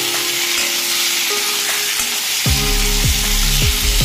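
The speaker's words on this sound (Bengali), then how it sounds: "টাকি মাছ অর্থাৎ ট্যাং মাছ বলে আমরা অনেকে, ভাজা হচ্ছে।" Taki fish fries in oil with a loud, continuous crackling sizzle throughout, and a few low rhythmic clunks from the pan or spatula toward the end; no talking.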